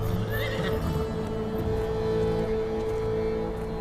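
A mare whinnies loudly and close, a rising neigh near the start, followed by snorting and shuffling hoof sounds over a steady low background hum, no talk.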